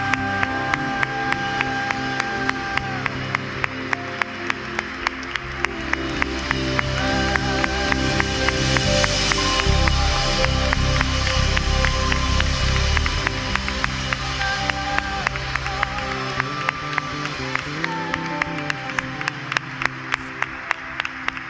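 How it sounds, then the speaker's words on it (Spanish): Congregation in a Christian church worship service applauding, rhythmic crowd clapping that keeps up steadily for about twenty seconds over loud sustained music, swelling in the middle. "permítenos, Señor, reconocerte a través de este aplauso de gloria y de alabanza"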